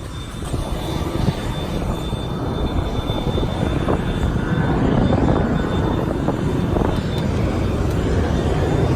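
Engine of a small Marvin company airplane, a loud, steady low roar filling the cabin without a break.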